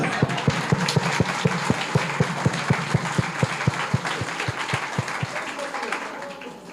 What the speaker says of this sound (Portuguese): vamos dar um aplauso a elas